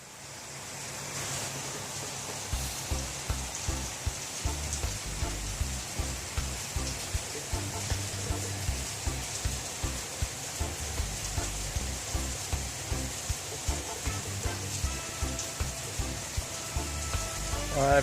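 Rain pours steadily outside while water leaks in, making a continuous hiss and patter with a faint rhythmic dripping or thumping underneath, all at a moderate level.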